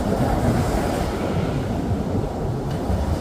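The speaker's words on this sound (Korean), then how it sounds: "파도가 정말 장난 아닙니다" Big sea waves crash on the shore as a dense, loud, continuous roar of surf, close by and heavy with wind rumble, and no voices.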